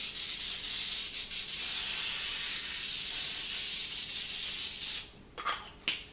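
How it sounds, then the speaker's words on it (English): Baker's Joy flour-containing baking spray hisses steadily into a baking dish for about five seconds, a close, even aerosol rush that then stops, followed by a couple of short spurts. "I'm using a spray that has flour in it already"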